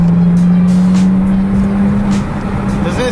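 Lexus IS300 with a straight-pipe exhaust pulling hard in third gear, a loud steady droning engine note heard from inside the car, close and continuous with no talking.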